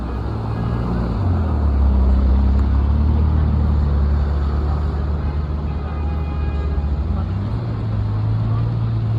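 A Ferrari 812 GTS on a Paris street, its deep engine rumble swelling loud and near, then holding steady with a pitch shift, as someone talks over it.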